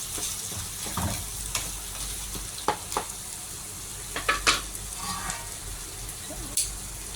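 Sausage and chicken sizzle steadily in a frying pan, a soft continuous crackle broken by a few sharp clicks and scrapes from stirring, with no voices.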